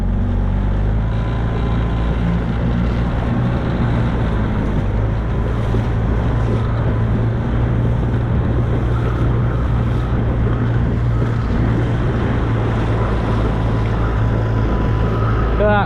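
A small fishing boat motors out to sea off the Cornish coast, its engine a steady low drone under loud rushing wind and splashing waves, constant and close throughout.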